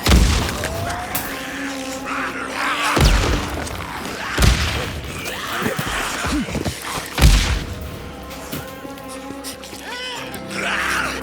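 Pipe bombs going off in the game Days Gone, several sharp booming blasts spaced a few seconds apart amid growling infected creatures and game noise, with a voice talking at times.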